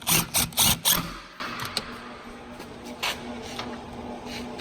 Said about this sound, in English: Always start your bolts with the impact.